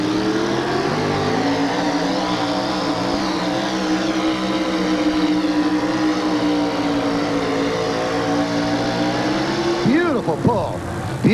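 The Prosecutor monster truck strains at a sled pull at a 1987 USHRA event in Oakland, its engine roaring loud and sustained, pitch holding then surging near the end, with an announcer talking over it.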